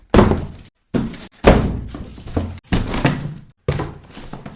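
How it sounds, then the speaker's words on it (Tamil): Cupboard doors bang open and shut on their own in another room, five heavy wooden thunks separated by brief silences, close and loud. "இன்னொரு ரூம்ல இருந்து கபோர்ட்ஸ்லாம் தானா திறந்து மூடுற மாதிரியான சத்தம் கேக்குது"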